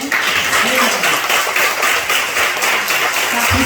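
A church congregation applauds during a sermon, a dense, steady wash of clapping filling the room, with a speaking voice briefly audible at the start and end.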